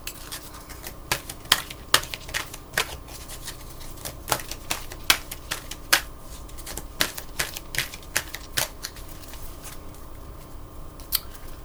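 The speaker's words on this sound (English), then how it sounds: "feeling like I need to shuffle and then just look at the bottom of the deck." A deck of tarot-style cards being shuffled by hand, a continuous crisp riffle of rapid snapping flicks with sharper clacks scattered throughout, close and fairly quiet.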